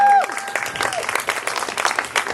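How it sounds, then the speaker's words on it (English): Audience applause for a writers collective's reading event, a burst of clapping that swells after a brief tone and continues steadily with some crowd noise throughout. "You can definitely applaud that."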